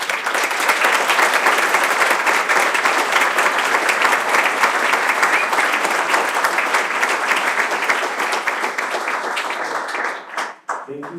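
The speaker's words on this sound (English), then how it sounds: "give a big round of applause for all the organizers that were not visible" Loud, dense applause from a conference audience for the volunteer organizers, a continuous roar of many hands clapping that holds steady for about ten seconds before thinning out at the end.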